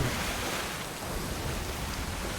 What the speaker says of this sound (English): How crazy are these waves, huh?